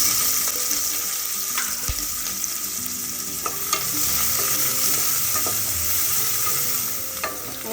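Onion fries in oil for a Kerala pulao with a loud, continuous close-up sizzle, broken now and then by a few light clicks of a stirring spoon.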